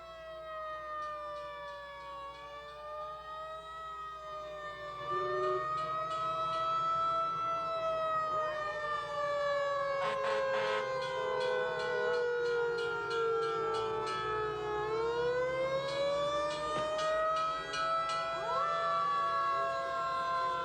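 A fire museum's fire engine sounds its siren during the 1998 Burlington Fourth of July parade, a loud, wailing tone that rises and falls in long continuous sweeps, growing stronger partway through over a low crowd and street rumble.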